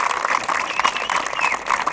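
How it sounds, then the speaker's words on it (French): An audience at a tuning car meeting applauds the announced fundraising total, a continuous, moderately loud patter of many hands clapping together. "Donc vous pouvez applaudir plus que fort."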